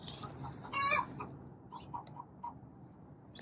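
A backyard hen in the coop clucks and squawks agitatedly before laying, a sharp cackling burst followed by scattered softer clucks at a moderate distance.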